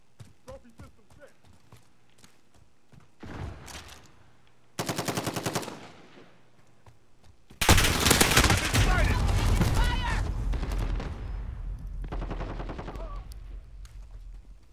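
Bursts of automatic gunfire from the video game Call of Duty: Modern Warfare (2019), with a short rapid volley followed by a longer sustained fusillade, then game effects and faint footsteps, with a voice talking over parts.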